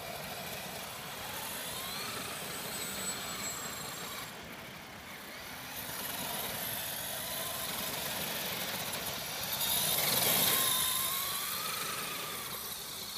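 An Axial Yeti XL radio-controlled car drives nearby, its electric motor giving a steady whirring drone that swells and fades as it moves, rising to a louder surge near the end.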